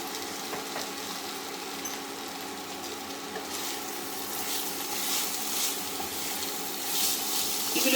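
Chicken curry with turmeric and potatoes sizzling and frying in a pan, a soft, steady crackle at low level that swells slightly now and then, with no talking.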